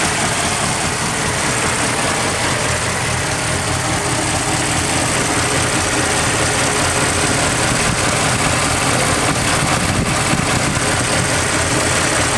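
A 1948 Ford Super Deluxe Convertible with a flathead V8 idles smoothly and quietly, giving a steady, even engine hum heard close up under the open hood with no talking.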